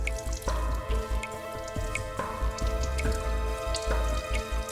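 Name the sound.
water dripping from a leak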